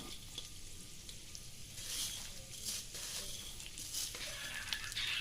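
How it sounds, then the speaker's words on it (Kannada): Split black gram and split green gram lentils crackle and sizzle in hot oil, with bursts of spattering and a few scraping stirs throughout. "ಒಂದು ಸ್ವಲ್ಪ ಬೇಳೆ ಉದ್ದಿನ ಬೇಳೆ ಹೆಸರು ಬೇಳೆ ಹಾಕಿ ಆ ಎಣ್ಣೆಯಲ್ಲಿ ಚೆನ್ನಾಗಿ ಮಿಕ್ಸ್ ಮಾಡಿ"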